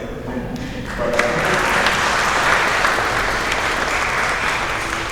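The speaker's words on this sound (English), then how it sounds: "So we should applaud that effort." Audience applause at a banking and finance conference, rising after a brief quiet start into sustained, fairly loud clapping from a seated crowd that carries on to the end.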